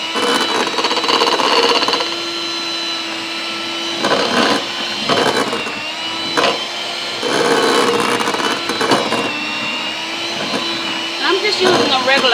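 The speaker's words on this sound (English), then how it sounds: "I'm just using a regular hand mixer" A regular hand mixer whirs through oatmeal cookie dough in loud bursts that stop and start, its motor pitch steady between short pauses.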